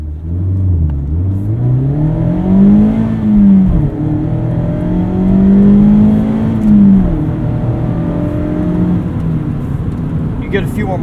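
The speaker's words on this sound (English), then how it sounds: "Let's do a little 0 to 60 test. Traction control off." A Mazda MX-5 Miata revs hard through the gears during a 0 to 60 run with traction control off, the engine note rising, dropping at a shift, then climbing again, loud and close from inside the cabin.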